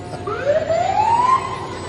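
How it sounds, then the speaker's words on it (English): An emergency vehicle siren in a Christmas parade in Charleston gives one long rising wail, fairly close and loud, then cuts off over a low background. "We know you have sirens."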